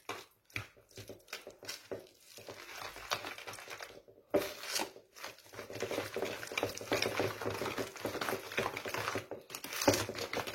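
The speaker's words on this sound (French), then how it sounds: "Et commence à fouetter." Butter beaten with icing sugar and vanilla sugar in a bowl, with irregular bursts of rapid close whisking patter separated by short pauses.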